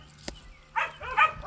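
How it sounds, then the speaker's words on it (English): A bird dog gives two short barks close by, spaced about half a second apart, after a brief click in a quiet room. "They're also bird dogs, so they see birds and then they just bark."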